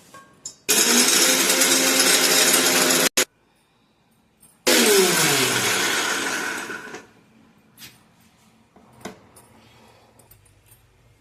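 A mixer grinder blends roasted coconut, onion, black pepper and cloves into masala in two loud bursts, the second winding down with a falling whine, followed by faint clicks and taps.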